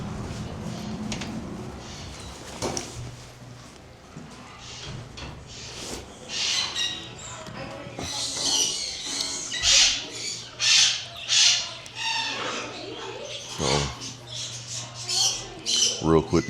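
Exotic pet birds squawk and screech repeatedly inside a bird shop, with sharp, loud bursts in rising frequency, mixed with background chatter and indoor noise.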